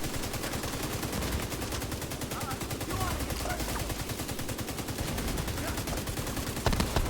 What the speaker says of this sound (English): the grenade is shaking my whole screen